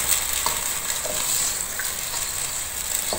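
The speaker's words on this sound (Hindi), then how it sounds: "इसको भी हमने अच्छी तरह से मिक्स करना है और थोड़ा सा और भूनना है।" Banarasi biryani mixture fries in oil in a pan while it is stirred, a steady close sizzle broken by a few scraping strokes of the spoon.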